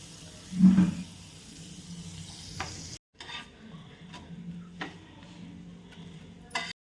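Pav bread toasting in butter on a pan as it is pressed down, a soft steady sizzle with faint scraping and a few light taps, close and continuous with no talk.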